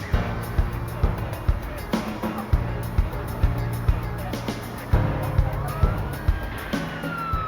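A San Diego police car siren wails in a wavering pattern, moderately loud, under spoken narration and a faint rhythmic background beat.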